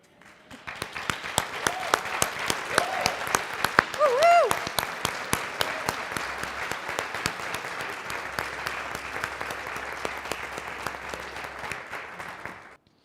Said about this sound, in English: would you please stand so we can applaud you?